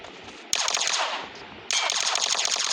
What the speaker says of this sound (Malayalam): വെടിവെച്ച് കൊന്ന്